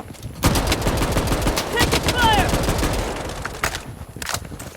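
FAL rifle fire in a video game: loud, rapid bursts of close gunshots run almost nonstop, with a few sharper cracks standing out near the end.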